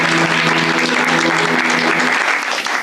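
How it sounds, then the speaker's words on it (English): Sustained, loud applause from a television game show's studio audience greets an introduction, dense clapping that holds steady and thins slightly toward the end, with a low tone beneath it. "This one's going to need a lot of applause"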